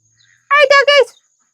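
Ducks outdoors on a front porch give three loud, close, nasal quacks in quick succession, then fall silent.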